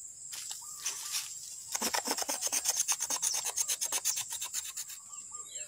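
Bark being scraped off a plant stem to prepare it for propagation with rooting powder, heard close up as a steady series of short, dry rasping strokes in a quick regular rhythm, with no talking.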